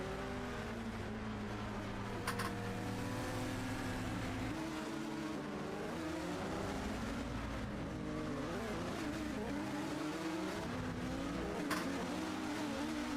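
A Formula sprint car in a sim racing game spins donuts, its engine revving in steady sweeping pitch bends while tires squeal continuously, loud and close.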